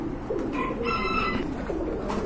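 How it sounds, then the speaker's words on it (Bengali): A pair of Danish pigeons coo close by, giving a few soft, throaty calls in a short run against low background noise, with no talking. "এক জোড়া ড্যানিশ কবুতর দেখতে পাচ্ছেন"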